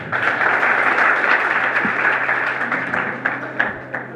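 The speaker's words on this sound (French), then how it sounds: "je voudrais souhaiter qu'on les applaudisse s'il vous plaît" A crowd applauds steadily at the opening ceremony of a youth forum in Kankan, dense overlapping clapping from many hands that gradually thins toward the end, loud and close.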